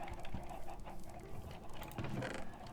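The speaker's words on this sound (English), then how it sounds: "It sounds like my chickens are officially starting to cram themselves to death" Chickens cluck in the Minecraft Cobblemon video game, a steady dense chatter of overlapping in-game fowl calls that runs continuously at moderate level with a few louder squawks.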